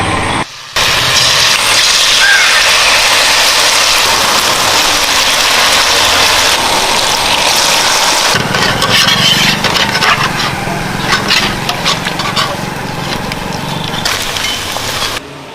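Cauliflower pieces for gobi manchurian frying in hot oil, giving a loud, continuous crackling sizzle that sounds close by, with no talking.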